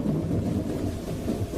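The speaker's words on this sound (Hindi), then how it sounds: "अरे, ये बारिश कितनी तेज हो रही है।" Heavy rain with rumbling thunder from a cartoon sound effect, a steady dense low roar that holds at the same level throughout with no break.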